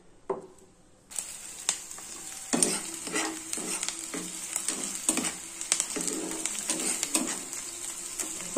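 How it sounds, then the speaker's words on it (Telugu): Finely chopped green chillies and other ingredients frying together in a pan, a near, loud, steady sizzle that starts abruptly after a brief quiet spell, punctuated by repeated scraping and clinking stirs. "అన్నీ ఒకటికొకటి వేయించుకోవాలండి."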